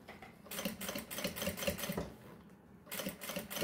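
A sewing machine stitching a pochete bag, running in quick rhythmic bursts of rapid mechanical clatter with short pauses between runs, close and clear.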